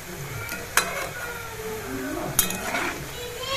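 Pitha fried in hot oil for a winter Makar Sankranti spread: a steady, close bubbling sizzle with two sharp clinks of a utensil against the pan, and a voice faintly present in the background.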